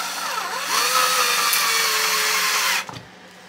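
Power drill driving screws fitted with washers into a flange, a loud continuous whirring under load with a rising pitch for nearly three seconds before stopping abruptly.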